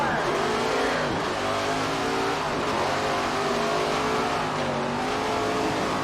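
Race cars roaring around a muddy dirt track at Knoxville in the SRX racing video game, with steady loud engine drone and rising and falling revs from several cars, and no talk.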